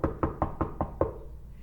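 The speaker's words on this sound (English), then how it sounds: "He knocked on the door to Carla's office." Six evenly spaced knocks on an office door, sharp, close raps in a steady rhythm that stop abruptly, with no talking.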